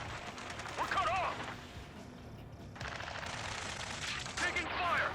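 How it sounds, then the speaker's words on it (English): Gunfire in the Ace Combat 7 video game: rapid bursts of machine-gun and cannon fire under constant jet and battle noise, with radio voices talking over the action. "Taking fire! We're pinned down! Shoot back!"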